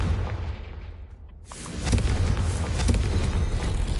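A Confringo fire spell explodes in Hogwarts Legacy, a brief lull giving way to a loud, sustained blast and crackling rumble that stays heavy and close until the end.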